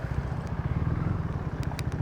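A motorcycle rides a Kathmandu road between Kalanki and Satdobato, its engine giving a steady low, pulsing rumble close by, fairly quiet and without talk.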